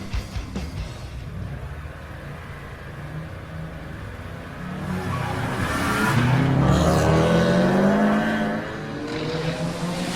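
Corvette and Barracuda race cars roar through a tiebreaker drag race, engines rising to a loud sustained peak as they accelerate down the straightaway, then easing off, with no talking.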